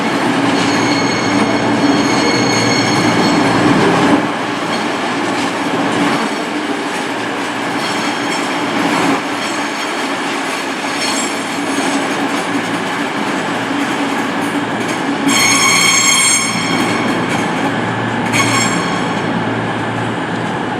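A Class 220 cross-country train at Glasgow Central station runs a long steady rumble with rail clatter, and high wheel squeals stand out near the end; no one speaks.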